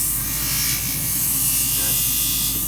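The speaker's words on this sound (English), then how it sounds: "grind our edges down, and then we're going to grind the bottom so it gets nice and stabilized" A grinder works the edges of a rear foot post, a loud, steady buzzing whir with a low hum underneath, continuous and close throughout.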